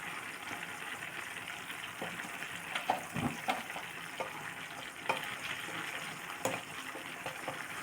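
Chili powder frying in hot oil for a homemade pickle, a steady soft sizzle and bubbling with occasional sharper pops and crackles, continuous and close, with no voices.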